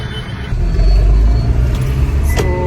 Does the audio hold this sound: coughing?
no